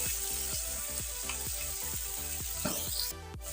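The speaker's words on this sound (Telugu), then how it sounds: "చికెన్ కొంచెం బాగా ఫ్రై చేసుకోవాలండి." Chicken pieces frying in a pan for a chicken gravy curry, giving a steady close sizzle with a rhythmic run of scraping stirs, no talking.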